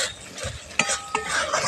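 A spice masala with cashews is stirred and sautéed over low heat in a pan for matar paneer, giving close scraping strokes with a couple of sharp utensil knocks and a soft sizzle, no talk.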